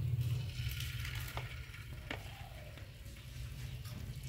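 Battered leatherjacket fish frying in hot oil, a steady dense sizzle with occasional brief crackles, fairly close and continuous with no talking.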